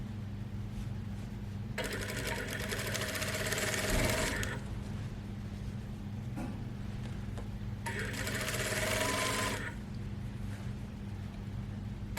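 A sewing machine stitches fabric in two loud, close bursts of rapid whirring, each lasting a few seconds, separated by a quieter pause with a low motor hum running throughout and no voices.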